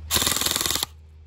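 Specna Arms EDGE SA-E20 airsoft gun firing a fast full-auto burst of under a second, a loud, close, rapid buzzing rattle that stops abruptly, leaving a faint motor hum.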